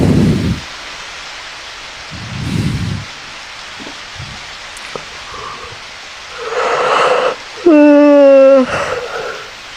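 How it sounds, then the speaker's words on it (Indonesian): Rain falls with thunder rumbling during a storm, heard as bursts of broadband wash alongside a few sharp tonal game-like sounds and a rising chime sequence. "Hujan."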